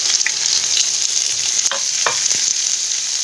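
Onion frying in hot oil in a pan for a creamy paneer malai kofta gravy gives a steady close sizzle, broken by a few stirring scrapes, with no voices.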